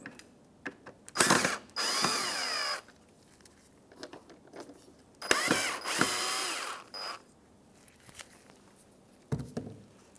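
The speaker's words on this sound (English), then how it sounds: "This unit here, Phillips screwdriver. Back these screws right out." A power driver backs screws out of a 2007-2013 Acura MDX headlight unit in two whirring runs of about a second each, close and clear, separated by quiet clicks and handling taps.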